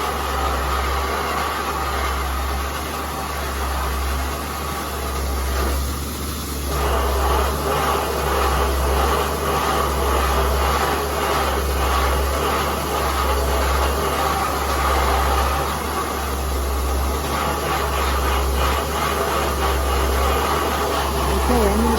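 An Alfa Romeo GTV Turbina alloy wheel is media blasted, producing a continuous loud, rushing hiss of abrasive spray over a steady low compressor hum, unbroken for the whole stretch.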